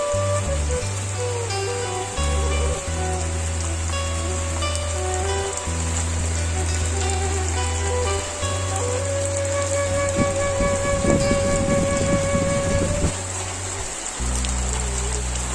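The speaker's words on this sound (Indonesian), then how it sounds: "Inilah suasana Kampung Kubang ya di saat turun hujan." Heavy rain pours over a hillside village of Kampung Kubang in Garut, West Java, a steady dense hiss running throughout beneath a prominent layer of background music.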